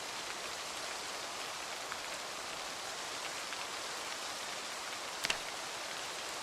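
Steady rain in the video game Project Zomboid hisses evenly throughout, a dense wash of falling drops with one brief sharp click near the end.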